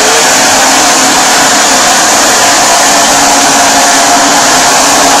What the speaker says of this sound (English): I have a state-of-the-art vacuum cleaner. State-of-the-art scrubber.